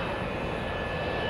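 An Emirates airliner pulls away from its stand at the airport, with a loud, steady aircraft engine roar and whine filling the whole moment.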